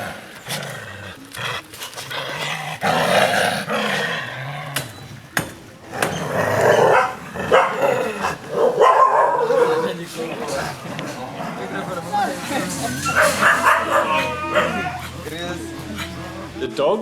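Dogs at a family-run puppy rescue bark, yip and whimper close by, with panting between outbursts, while people talk over the commotion.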